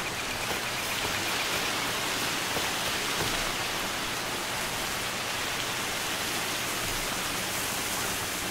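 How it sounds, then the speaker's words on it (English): Heavy rain pours down in the video game Far Cry 2, a dense, even hiss holding steady throughout at low level with no talking over it. "Raining quite heavily."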